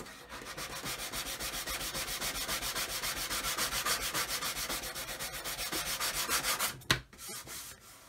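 Close, continuous back-and-forth sanding of a 1/200 scale model Titanic hull with an even scraping rhythm, stopping abruptly near the end with a brief knock and a few softer rubs.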